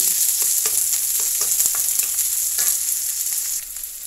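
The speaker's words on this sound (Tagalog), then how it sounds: "pinagsasabay ko na yung sibuyas at bawang para yung aroma po niya ay lalong masarap" Onion and garlic sauté together in a pan for ginisang kalabasa, making a loud, dense, continuous hiss of frying with a few soft stirring knocks, then dropping slightly toward the end.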